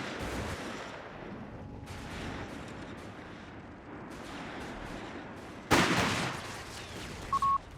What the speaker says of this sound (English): Infantry firing on us.